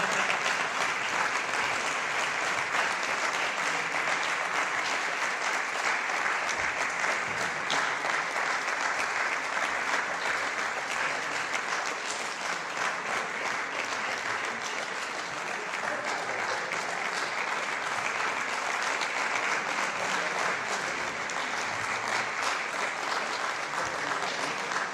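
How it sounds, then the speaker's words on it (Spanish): Sustained audience applause filling a hall at an anniversary event, dense and steady clapping from a large crowd that holds evenly for the whole stretch. "Podéis aplaudir si queréis, ¿eh?"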